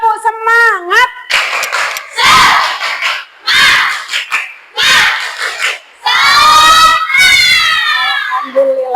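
A class 9B of children chants loudly in unison between bursts of rhythmic group clapping, near and energetic, with shouted calls rising at the end.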